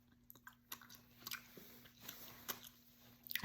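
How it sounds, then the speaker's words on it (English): Someone chews gum very close and quietly, with soft, irregular moist clicks and smacks over a faint steady hum in an otherwise silent room. "Chewing gum."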